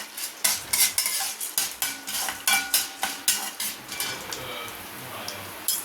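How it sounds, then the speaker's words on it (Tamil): Ridge gourd peel being roasted in a pan, with a spoon scraping and stirring in a steady rhythm of close metallic strokes over a light sizzle. "நல்லா வாசம் வர வரைக்கும் பொன்னிறமாக நல்லா வறுத்து எடுத்துக்கிறோம்."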